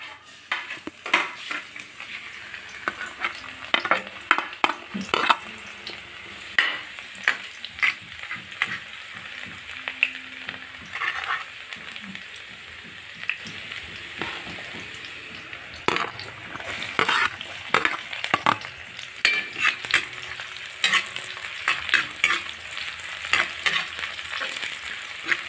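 Squid adobo sizzling and frying in a pan while a utensil stirs it, with a steady crackle under frequent scraping and clinking of metal against the pan, close and busy throughout.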